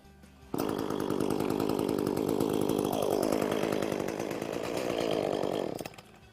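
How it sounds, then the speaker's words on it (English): An ECHO chainsaw engine catches after a brief quiet cold start, then runs loud and steady close by, its pitch dipping and rising as it idles and revs before cutting off. "now I'm ready to start the chainsaw."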